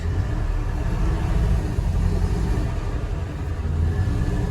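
Chevy R30 dump truck rolling off with a heavy load in its dump bed, a steady low engine rumble with road noise, moderately close and without voices.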